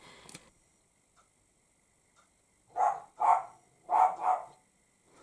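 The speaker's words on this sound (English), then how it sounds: "Sorry if Pumpkin's barking, she's just seen the Dachshunds next door." A dog barks four times in two quick pairs, moderately loud against an otherwise quiet room.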